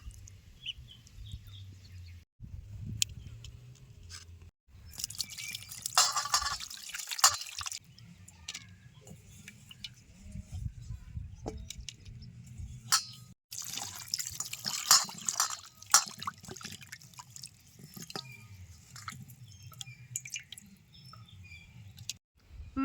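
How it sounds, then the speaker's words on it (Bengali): Freshwater prawns are rinsed in water by hand: splashes, drips and trickles come in bursts, with quieter gaps between and a bird calling faintly outdoors. "এবার সমস্ত মাছ ভালো করে ধুয়ে পরিষ্কার করে নেবো"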